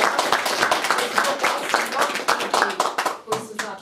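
Audience applause at a library anniversary celebration in 2021, a dense, steady clapping from a crowd that carries on for several seconds with sharp individual claps standing out near the end.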